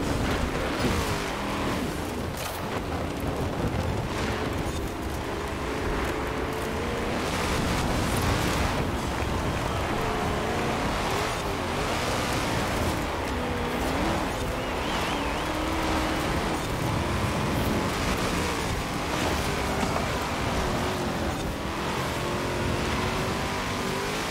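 A car in the racing game Forza Horizon 4, driven on Fortune Island, revs and accelerates with a continuous roaring engine. The pitch rises and falls through the gears, and the sound is loud and steady with no talk over it.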